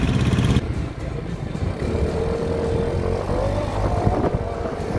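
A Yamaha X-City 250cc scooter engine turns over and settles into a steady, close idle with a low rumble, continuous for several seconds with no talk.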